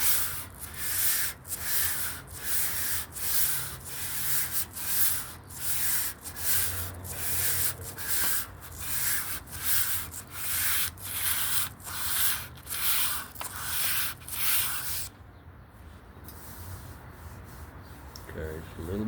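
Hand sanding rasps in a steady back-and-forth rhythm, about twenty close, loud strokes over fifteen seconds, before the scraping softens to a lighter, irregular rub.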